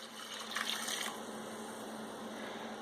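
Red wine blend pours into a pan of meat sauce, a brief liquid splash that settles into a soft bubbling hiss under a steady kitchen hum.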